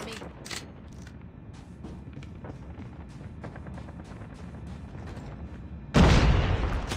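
A gun magazine is swapped in the Call of Duty: Mobile multiplayer video game, with a run of quick mechanical clicks and clacks over background game noise, ending in a sudden loud burst near the end.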